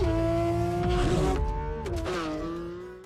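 A Porsche 911 GT3 RS with a naturally aspirated 4.0-liter flat-six engine sings at high revs with a strong harmonic howl, the pitch dipping and rising through shifts, then fading slightly at the end.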